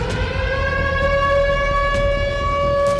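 An air raid siren in Ukraine gives a loud, steady civil-defense wail, one sustained tone with overtones held throughout and no talk.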